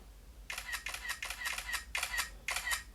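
iPhone 16 Pro Max camera shutter clicking five times in fast succession, each a short snappy double click about half a second apart, close up and alone in a quiet room.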